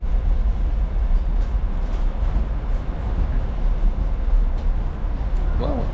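Century-old train on the jungle line to Kuranda, a steady, loud rumble of rolling carriages with continuous low-frequency clatter throughout, a brief squeal near the end.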